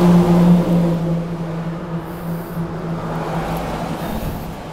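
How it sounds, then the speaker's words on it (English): Road traffic noise echoing down an outdoor passageway, a steady broadband rumble with a low hum that holds at a moderate level throughout, no voices. "Firstly, apologies for the road noise."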